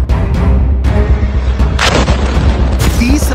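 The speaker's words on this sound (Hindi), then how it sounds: "तीसरा धमाका" Loud blasts from an explosion in the Israel–Hamas fighting in Gaza, sharp booms over a continuous low rumble, a strong burst near the middle and a further hit near the end.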